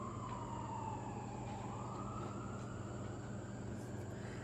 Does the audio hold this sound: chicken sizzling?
no